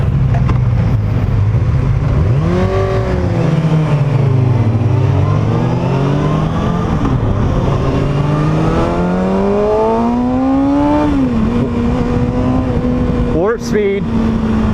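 A 2019 Kawasaki ZX6R motorcycle engine is loud and close. It revs repeatedly through rising and falling pitch sweeps, then holds a steady high-RPM whine near the end.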